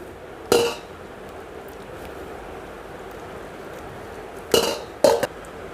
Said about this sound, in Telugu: అల్లం పచ్చిమిర్చి ఇలా నూరుకోవాలండి